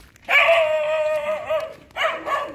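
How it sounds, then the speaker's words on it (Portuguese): A dog gives a few drawn-out yelping barks and whines, fairly close and clear, with a short pause between the two bursts. "E esse cachorro aí, ó."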